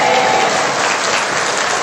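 Church congregation clapping during a Sunday worship service, a brief, loud, dense burst of applause with no voices over it.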